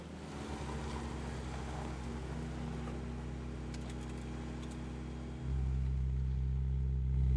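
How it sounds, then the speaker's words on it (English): A car engine in The Grand Tour Game idles at noticeably high revs, a steady loud drone with strong low harmonics that steps up louder near the end, with no talk over it. "That's quite high revs. Yeah, idle's quite high, yeah."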